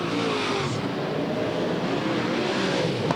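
Super sedan race cars roar around the Yandina Speedway dirt track, a dense loud wall of engine noise from several cars with shifting pitch as they jostle for position, no talk over it.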